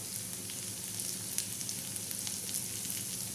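Garlic chutney tipped into potatoes frying in oil, giving a steady, close hiss and sizzle with faint crackles and stirring and no voices.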